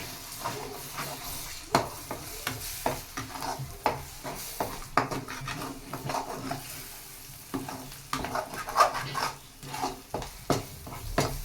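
Egg rice stirred and fried in a pan, a steady sizzle under repeated scraping and clinking strokes of a spoon against the pan, close and continuous.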